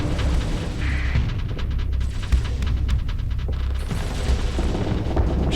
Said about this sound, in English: There's the big siege cannons.